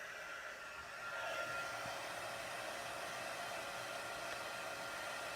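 Heat tool blowing a steady, soft roar of hot air over embossing powder on a stamped card, continuous and unbroken.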